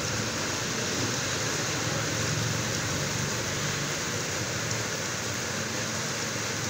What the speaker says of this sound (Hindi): भरपूर बारिश हो रही है